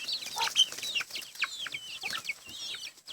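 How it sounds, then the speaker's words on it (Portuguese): Chicks and hens on a farm give a steady run of high, thin peeping and chirping, with a few louder cheeps standing out from the flock. No one talks. "Olha lá, tá os pintos lá, saiu tudo."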